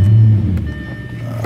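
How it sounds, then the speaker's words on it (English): A 2009 Audi A8 with push-button start fires up, giving a brief low engine burst that settles quickly into a quiet idle inside the car. "Car starts right up."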